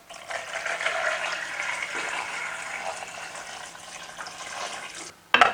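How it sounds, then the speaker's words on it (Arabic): Water is poured into a pot of rice with bay leaves, cloves, cinnamon, cardamom, onion, black pepper and salt, making a steady splashing gush for about five seconds. A brief clatter follows at the end. "وبنضيف المي"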